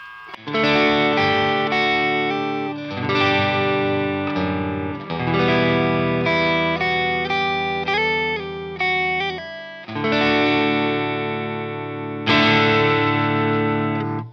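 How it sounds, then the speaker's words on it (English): An overdriven electric guitar runs through an Origin Effects Revival Drive pedal into a Victory Sheriff 25 amp, playing ringing chords and melodic single-note lines in loud, sustained phrases with short pauses. "EQ2 on the Sheriff"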